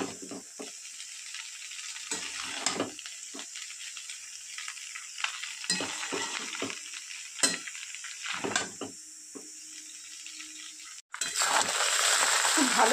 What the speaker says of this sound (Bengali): খুব ভালো করে ভেজে নেব একটু সময় ধরে।